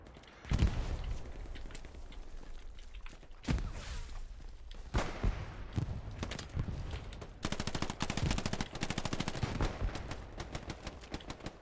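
Suppressing gunfire in the World War II shooter Hell Let Loose: loud repeated bursts of automatic fire with sharp single shots between, near and continuous, ending in a fast sustained rattle.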